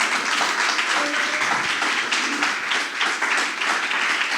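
A Spanish-speaking church congregation applauds during a Christmas sermon: loud, dense, continuous clapping from many hands fills the room without a break.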